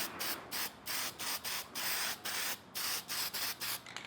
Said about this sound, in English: I'm just going to spray a little bit of this on there